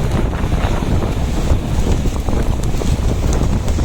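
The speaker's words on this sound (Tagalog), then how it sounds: "Medyo malakas ang habagat. Hanging habagat ngayon" Strong habagat monsoon wind buffets the microphone at sea near a lighthouse, with boats on the water, roaring steadily and loudly throughout with no speech.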